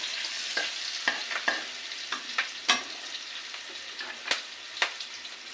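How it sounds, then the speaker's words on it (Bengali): Chopped onion frying in oil in a pan while making an egg and spinach dish, with a steady soft sizzle broken by several sharp scrapes and taps as a spatula stirs, close up. "একটা বড় গোটা পেঁয়াজ আমি কুচি করে কেটে নিয়েছি, এটা এবার দিয়ে দিলাম। এটা একটু ভাজা হবে"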